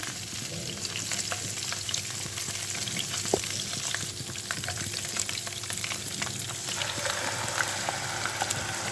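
Saag greens sizzle and crackle steadily in hot oil with browned ginger and garlic, a continuous close frying hiss with occasional pops.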